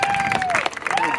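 Faint audience applause at a marching band halftime preview show, scattered clapping under a voice speaking over it for about a second.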